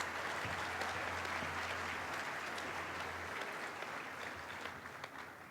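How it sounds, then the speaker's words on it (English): An audience at a medical college white coat ceremony gives students a sustained round of applause, a full, dense crowd clapping that stays strong throughout and eases slightly at the end, with no talking over it. "Let's give all of these students a round of applause."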